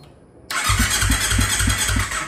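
An old, hard-starting Kawasaki Ninja 250 FI motorcycle cranks briefly, then its engine catches and settles into a loud, steady idle with a regular pulsing rhythm, very close by.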